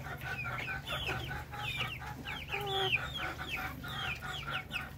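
Darag native chickens, including young roosters, in a farm setting, with busy overlapping clucks and squawks and a brief strained crow, fairly close, over a low steady hum.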